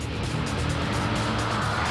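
A race car in Gran Turismo 4 Prologue lapping a circuit, its engine a loud, continuous close drone with slight rises in pitch and faint tire noise, no talking.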